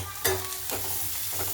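Spoon stirring turmeric, ground coriander and cumin into golden fried onion in a hot pan, with a few distinct scraping strokes over a steady close sizzle; no talking.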